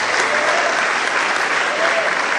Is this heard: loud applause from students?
yes